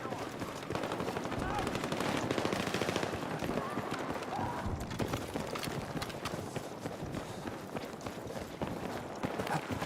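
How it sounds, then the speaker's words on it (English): Rapid pump-shotgun slam fire in the video game Battlefield 6: dense, continuous bursts of gunfire in a busy combat mix, steady and loud throughout, with a voice talking over it. "slam firing where you hold down the trigger and then use the pump action to pull the pin into the shell with force"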